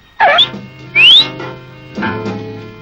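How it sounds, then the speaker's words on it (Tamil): Two quick rising whistles from a person, then a short lower whistled phrase, close and fairly loud with no talking, in a scene from a Tamil comedy film. "விசில் அடிக்கிறியா?"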